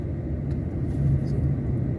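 A car rolls along a federal highway in the Huasteca Potosina, a steady low rumble of tyres and engine swelling slightly as it nears, heard from inside or beside a moving vehicle.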